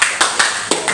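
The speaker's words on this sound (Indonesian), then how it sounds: "Nah, tepuk tangan." Classroom applause from a group of school students, with short bursts of clapping swelling at a steady rhythm across the moment, loud and close with no voices.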